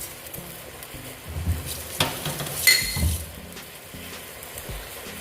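A spoon scrapes and clinks through vegetable soup ingredients in a cooking pot, including onion, scotch bonnet pepper and stock cube, with soft sizzling beneath irregular stirring strokes, one sharper clank midway.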